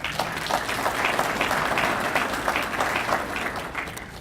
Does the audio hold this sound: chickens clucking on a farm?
no